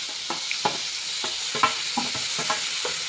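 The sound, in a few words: sautéing tomatoes and green chillies in a pan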